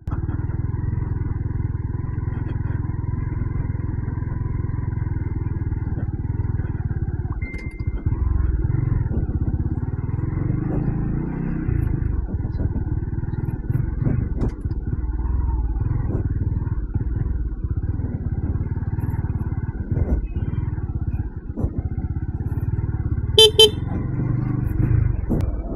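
Busy road traffic with many vehicles, cars and motorcycles passing close by with steady engine rumble, occasional clatter and a few short horn toots.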